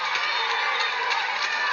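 Softball stadium crowd at a Mississippi State versus Oklahoma game, a steady broadband roar of cheering fans filling the stands throughout, dense and sustained without letup.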